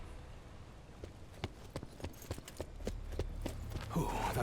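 Horse hooves clip-clop in Black Ops 4 Zombies, a steady run of sharp hoofbeats at moderate distance over a low rumbling game background, with a louder burst of noise near the end.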